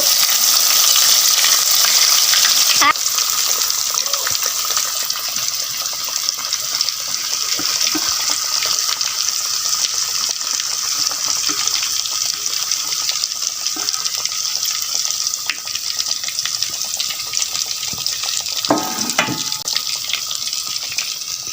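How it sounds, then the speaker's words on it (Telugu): Sea fish fry in a pot of hot oil, a steady loud hiss and bubbling running throughout with a few faint clinks and no talking. "ఇక ఫ్రై కోసం ఇది సిద్ధం చేసింది నూనె, అంటే ఇందులోనే మొత్తం ఫ్రై చేస్తుంది"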